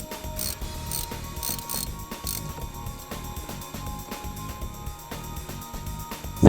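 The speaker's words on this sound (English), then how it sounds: "Next, loosen the hose clamp connected to the lid." A hose clamp on the air intake lid of a Toyota Tundra is loosened during a TRD cold air intake install, giving a steady run of quick ratcheting clicks and mechanical rattles close by, with a louder knock at the end.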